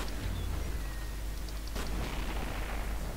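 An explosion in the video game F.E.A.R. Perseus Mandate erupts midway, a sharp burst over a constant low rumble and dense noisy backdrop, with no voices.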